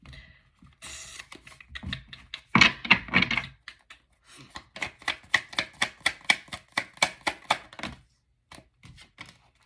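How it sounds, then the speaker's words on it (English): Rapid rhythmic clacks of tarot cards being riffled and shuffled, a burst of quick snaps followed by a steady run of sharp taps, close and fairly quiet. "That was a really bad shuffle."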